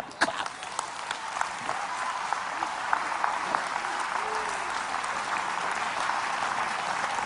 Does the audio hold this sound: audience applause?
yes